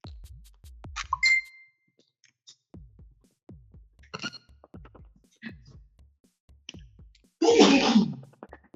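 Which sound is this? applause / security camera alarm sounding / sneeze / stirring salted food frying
sneeze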